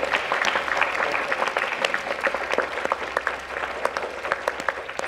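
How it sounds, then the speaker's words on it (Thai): Audience applause greeting an executive from Diamond Property in a Thai drama scene, a steady wash of many hands clapping at moderate distance with scattered sharper claps, no voices over it. "ขอเสียงปรบมือต้อนรับผู้บริหารจากไดมอนด์พร็อพเพอร์ตี้คุณกรัฐค่ะ"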